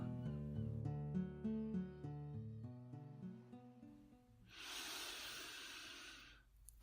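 A slow, deep breath during a guided meditation: a long airy exhale swells for about two seconds near the end, following soft, sustained musical tones.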